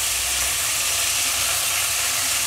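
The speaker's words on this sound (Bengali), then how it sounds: "লোটে মাছ একটু এনেছিলাম, আমি যেদিন বাজার গিয়েছিলাম, সেটা একটু ভাজা করছি" Lote fish, also called Bombay duck, frying in a pan makes a loud, constant sizzle and hiss with a low rumble underneath, steady throughout and with no talking.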